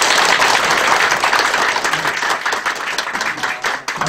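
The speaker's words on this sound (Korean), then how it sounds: "뜨거운 박수 부탁드립니다." Loud, sustained applause from an audience at a political candidacy press conference in Gyeongju, dense clapping that fills the whole stretch and tapers slightly near the end.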